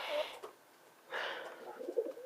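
A newly hatching guinea fowl keet gives a few faint, short peeping calls in quick bursts, close by in an otherwise quiet space.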